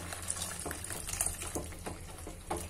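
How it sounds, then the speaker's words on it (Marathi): Water pours into a pot of methi dal (fenugreek lentil stew) in a home kitchen, a steady liquid splash and trickle with a few brief louder gushes, close and moderately loud, with no talking. "हे पाणी आता आपण त्याच्यात घालूया"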